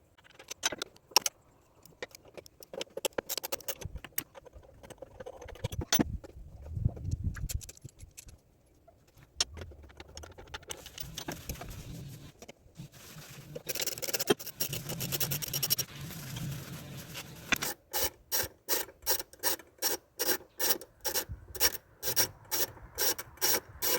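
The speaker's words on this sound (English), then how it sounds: "we're going to undo these 4 bolts holding in the throttle body. So we're going to go on and pull those out" Throttle body bolts being undone and pulled out on a 2007 Mitsubishi Outlander: faint metallic scraping, clinking and rubbing at first, then a fast rhythmic ratcheting of a wrench clicking in an even series toward the end.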